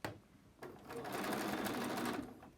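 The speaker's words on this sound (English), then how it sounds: "so that I stitch right over the edge of" Sewing machine stitching over the elastic casing edge of a scrub cap, a short click followed by a steady close whirring run of about two seconds.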